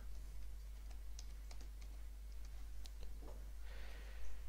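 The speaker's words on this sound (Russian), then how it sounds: "В командной строке вводим" Rapid, light clicking of a computer keyboard as a command is typed, irregular keystrokes fairly faint over a constant low electrical hum, with no talking.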